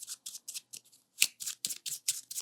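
A deck of playing cards is shuffled by hand during a magic trick, giving a rapid run of about a dozen crisp riffling bursts with brief gaps, close and alone.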